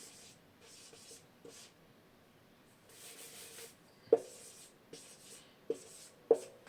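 A pen scratches numbers by hand on paper during a subtraction lesson in rupees, with short soft scribbling strokes in bursts and a few sharper taps as digits are finished, close and quiet with no talking.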